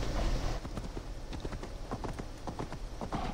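A horse trots through a settlement in Assassin's Creed Valhalla, its hooves clip-clopping in a quick, even rhythm, close and clear, with no talk.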